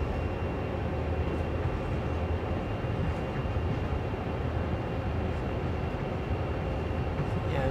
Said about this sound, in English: I'm just going to slow this train down